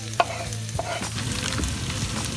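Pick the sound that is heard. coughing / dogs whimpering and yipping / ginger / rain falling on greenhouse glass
ginger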